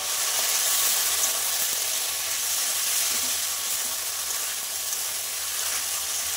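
Water poured into a hot pan coated with ground cumin, ginger and green chilli paste, for a potato and rohu fish curry, hisses in a loud, steady, unbroken sizzle heard up close.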